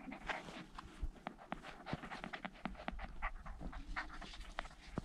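American Collie puppies pant rapidly and steadily close by on a warm day, with soft shuffling movement and faint whimpers mixed in.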